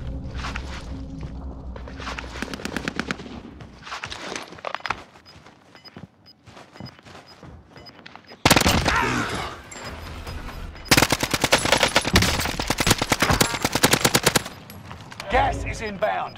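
Call of Duty automatic gunfire on a battle royale map, bursts of rapid shots and footsteps coming and going, with two loud sustained full-auto bursts in the second half, close and sharp.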